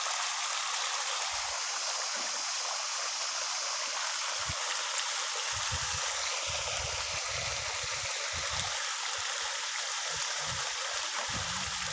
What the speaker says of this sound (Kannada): ಅದಕ್ಕೆ ಈ ನೀರು ಬಿಡ್ತಾ ಇದ್ದಾರೆ